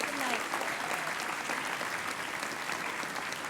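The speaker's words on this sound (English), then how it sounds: "Give yourselves a round of applause." A dinner-event audience claps in dense, sustained applause that fills the room evenly for the whole stretch, with no single clap standing out.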